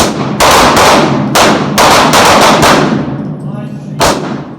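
Pistol fire on a tactical training range in North Idaho: a rapid volley of loud, sharp shots rings out close by, then one last crack after a short echoing pause.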